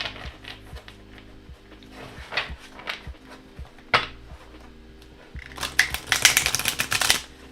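An animal-themed tarot deck is shuffled with soft riffling and tapping, building to a louder, busy flurry of shuffling near the end; no one speaks.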